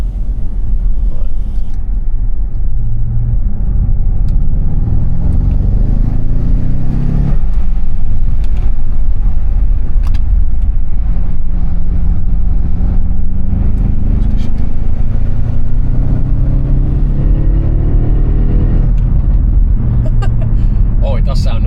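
An Audi RS6 with resonator deletes and a stock downpipe idles and runs steadily, a deep loud rumble with a couple of rising revs, heard close with talk over it.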